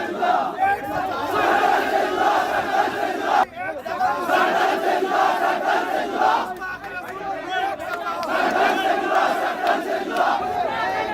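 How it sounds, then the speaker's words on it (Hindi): An angry crowd in Hyderabad chanting a slogan in unison, a dense mass of raised voices swelling in repeated waves for the whole stretch, with a brief dip partway through before the chant surges back at full strength. "हैदराबाद में जो भीड़ भड़की, उसने एक बार फिर सिर तन से जुदा का नारा बुलंद कर दिया"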